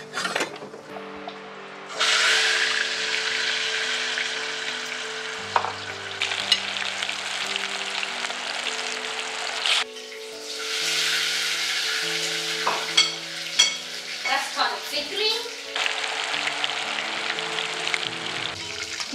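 Meatballs browning in a frying pan for Lion's Head Meatballs give a steady loud sizzle with occasional stirring and scraping, alongside a sustained low tonal hum, with no talking.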